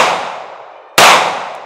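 Two sharp gunshots from a Smith and Wesson Bodyguard 2.0 pistol at a range, each a loud crack with a ringing tail, the second one louder and closer, with no talking.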